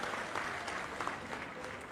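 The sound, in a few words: audience applauding loudly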